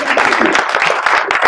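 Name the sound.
audience applause at a summit panel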